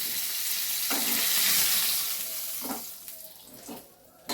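Fish heads frying in hot oil give a broad, loud sizzle that fades as they are lifted out, with a few utensil knocks and splashes toward the end.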